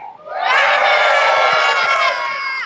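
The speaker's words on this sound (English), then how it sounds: "I want to hear you guys cheer, scream, yell, holler, basically make a lot of noise" A large theme-park audience at a Disney Indiana Jones stunt show cheers, screams and whoops together in one loud, sustained roar, with shrill voices on top, rising fast and holding strong before easing slightly at the end.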